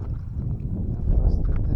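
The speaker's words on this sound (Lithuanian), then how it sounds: "Vėjas pučia." Wind buffets a microphone on a bank of the Nemunas river during feeder fishing for bream, a steady low rumbling gust that swells louder in the second half, with no other clear sounds.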